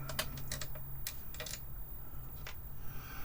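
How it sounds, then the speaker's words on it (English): A keyboard is pulled off a 1970s Micro-Term ACT-1 computer terminal, giving a scattered run of sharp plastic clicks and taps, close and fairly quiet over a steady low hum. "We'll pull the keyboard off here and take a look at it together."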